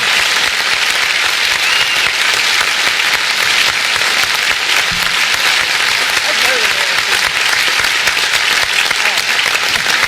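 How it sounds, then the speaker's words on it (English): Continuous crowd applause, a dense and even roar of many hands held at a steady level throughout, with faint voices underneath. "everybody's applauding her"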